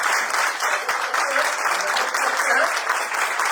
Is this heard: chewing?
no